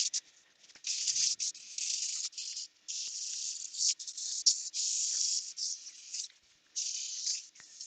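A woodturned inlay lidded box is sanded on the lathe, a close, soft hissing rub in uneven strokes of one to two seconds, broken by brief pauses, with no talk.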